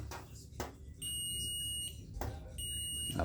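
A digital multimeter's continuity buzzer, tested on a salvaged Samsung TV circuit board, sounds in steady, high-pitched electronic beeps. The tone stops briefly between beeps, and it is faint and close.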